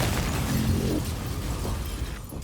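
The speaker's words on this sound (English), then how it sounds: "Pasadena, California is rocked by a massive explosion." A massive explosion rocking a makeshift laboratory in Pasadena, California, a dense, loud roaring blast that fills the whole moment and rumbles on without a break.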